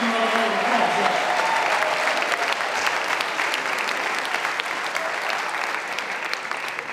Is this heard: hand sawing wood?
no